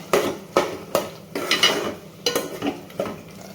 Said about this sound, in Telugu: మధ్యలో ఒకసారి మూత ఓపెన్ చేసి ఇదంతా ఇలా కలుపుకోవాలి.